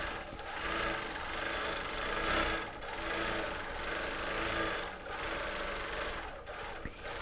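A quilting machine stitches over a printed quilt, a continuous soft mechanical hum with rhythmic rapid needle chatter that swells and dips gently as it moves, fairly quiet throughout.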